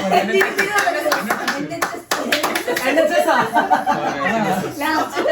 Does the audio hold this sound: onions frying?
no